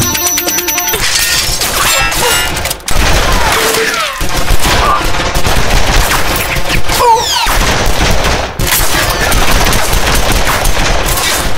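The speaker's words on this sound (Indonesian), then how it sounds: "Kehadirannya di Daisy Town disambut oleh para penjahat yang sudah bersiap untuk menembaknya dari berbagai sudut." Loud, dense gunfire from a Lucky Luke cartoon shootout in Daisy Town, with rapid volleys of shots overlapping music and crashes, continuous for the whole stretch with only brief breaks.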